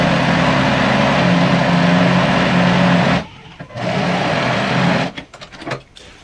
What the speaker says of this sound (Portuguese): E agora eu continuo costurando.